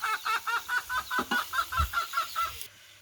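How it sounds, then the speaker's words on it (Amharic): Broiler chickens cluck in a quick, regular series of about a dozen close, clipped calls, with a few deeper notes mixed in before it cuts to quiet. "እነዚህ የብርዘቅ ዶሮ ናቸው እንግዲህ።"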